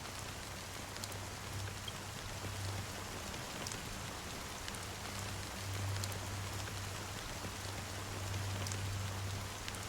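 Steady rainfall in the video game Honkai Star Rail: a soft, continuous hiss of drops with a faint low hum beneath, unbroken and fairly quiet for the whole stretch, with no talking.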